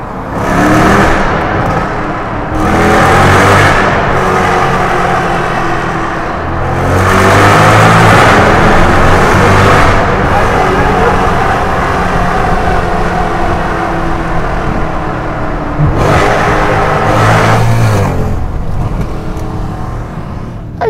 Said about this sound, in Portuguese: isto é sem dúvida alguma um dos carros mais audíveis onde eu já andei